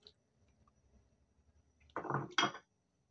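A metal cooking pot and its lid clink while mung bean stew with shrimp cooks, two close, bright clattering knocks after a quiet stretch of faint kitchen noise.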